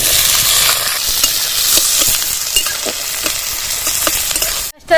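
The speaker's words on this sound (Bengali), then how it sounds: "এই সর্ষের তেল দিয়ে পেঁয়াজ দিয়ে দিলাম" Onions frying in mustard oil give a loud, continuous sizzle with faint intermittent stirring scrapes, close and alone, ending abruptly.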